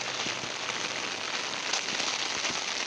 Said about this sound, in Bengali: প্রচণ্ড বৃষ্টি পড়ছে।